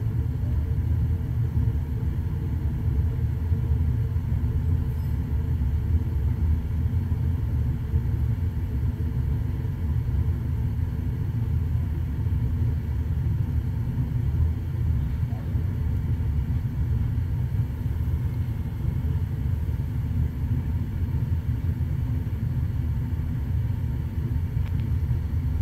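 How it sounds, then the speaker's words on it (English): Burners firing in a Trane XV80 gas furnace, a steady low roaring rumble that holds evenly throughout, with no talking. "You can hear it turning on the burners."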